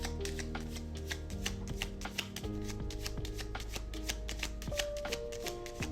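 Tarot cards are shuffled by hand in quick repeated riffles and slides, a close, brisk flurry of papery snaps over a steady low hum, with no talking.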